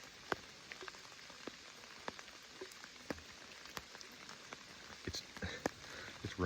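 Rain falls steadily outdoors during a hunt, with a dense wash of drops and scattered sharper taps on nearby surfaces, fairly quiet and continuous throughout.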